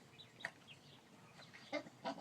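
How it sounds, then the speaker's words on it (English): Young chickens give soft, scattered clucks and short chirps, faint and close, in a quiet backyard setting. "These are nice chickens."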